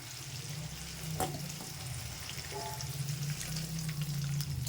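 Vegetables such as cauliflower, potato and carrot fry in a pan for a khichdi, giving a steady, close sizzle with a low hum beneath, a few sharp clinks of a utensil, and no speech.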